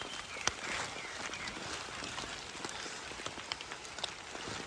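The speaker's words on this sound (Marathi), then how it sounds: "इलो पाऊस इलो पाऊस इलो" Rain begins falling on a cashew orchard, scattered drops tapping as sharp separate ticks against a soft, quiet background hiss, fairly close and with no talk.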